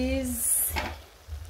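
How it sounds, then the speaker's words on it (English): Vegetable biryani (pilau vegetable rice) cooks in a pot with a close, steady sizzle and a brief stirring scrape midway, with no talk over it. "our biryani is here cooking well"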